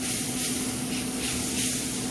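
A spray bottle mists competition ribs with apple juice in a steady, close hiss that runs without a break for about two seconds.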